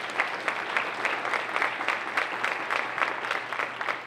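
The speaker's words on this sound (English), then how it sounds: "Let's give him a big round of applause and the team." An audience at a science of reading summit breaks into a round of applause, steady dense clapping that carries on for the whole stretch without pause and without voices on top.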